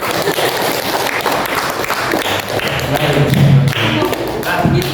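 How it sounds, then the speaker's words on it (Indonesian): Audience clapping in a steady patter through the whole stretch at a school gathering, mixed with some thumps and talk. "Tepuk tangan."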